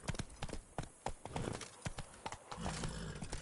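Roach, the horse in The Witcher 3, gallops with quick, even hoof clops and a brief snort or whinny, close by but quiet, with no voices.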